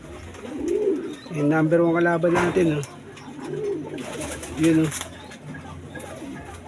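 Pigeons in a rooftop loft give deep, rolling coos, two or three clear bursts up close, while someone talks between and over them.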